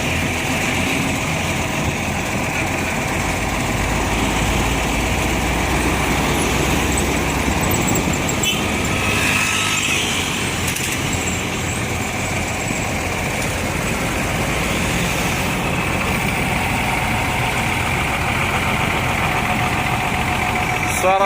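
The engine of an ALS intercity bus on the Medan–Surabaya route runs steadily at idle, a loud, continuous rumble with a rattling edge that lasts throughout, while faint voices can be heard in the background.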